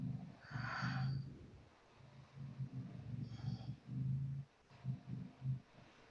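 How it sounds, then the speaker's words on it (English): Slow, deep breaths are drawn in and pushed out during a seated yoga twist: a few soft, airy inhales and exhales with a snorting, throaty edge, close and quiet, with no talking. "Take a couple breaths."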